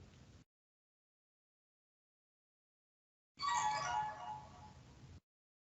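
A mobile phone ringtone plays alone for about two seconds, bright and melodic, with a short fragment of the same sound cut off at the very start.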